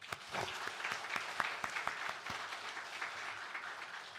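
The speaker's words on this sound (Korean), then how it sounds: "격려 박수 한번 합시다" Church congregation applauding in a steady wash of clapping with a few sharper individual claps standing out, moderately loud and filling the room throughout, with no talking.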